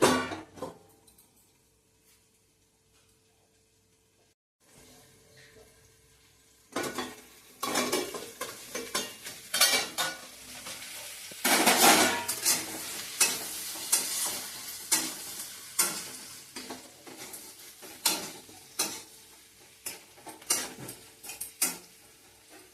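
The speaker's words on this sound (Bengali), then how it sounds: "একটু লাল করে ভেজে নিতে হবে" Paneer frying in a pan for chilli paneer, with a spatula repeatedly scraping and stirring against the metal; after a quiet start, steady sizzling and clattering strokes carry on close and fairly loud, with no talking.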